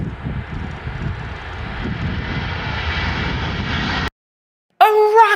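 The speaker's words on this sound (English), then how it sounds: "an airplane" An airplane engine roars loud and continuous with a slowly rising pitch, then cuts off abruptly into silence before a short burst of a different sound.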